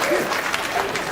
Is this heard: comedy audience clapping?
yes